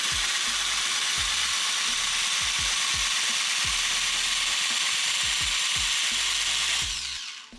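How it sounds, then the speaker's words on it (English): A tufting gun fitted with a small needle runs continuously through fabric, a loud, close mechanical buzz with rapid rhythmic clicking and ratcheting pulses, alone with no talk, cutting off near the end. "I kept running the gun just to show you guys that it's not going to tear the fabric"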